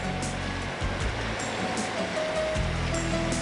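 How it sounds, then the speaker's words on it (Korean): Ocean waves break steadily on a rocky shore along a scenic coastal walking trail on a Korean island, a continuous close wash of surf with rolling swells and no talk. "이 끊임없이 귀에 들려오는 이 파도 소리가 너무 예뻐요"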